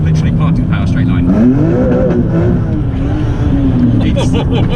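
A BMW Z3 M Coupe accelerates hard in first gear in a straight line from a parking area, its engine note loud and close, rising and falling steadily throughout with no clear talking over it.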